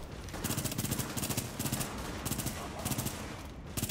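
Gunfire from the video game Tom Clancy's The Division, where a pistol is used. Rapid repeated shots come in loud bursts close up, with short pauses between volleys over a steady game background.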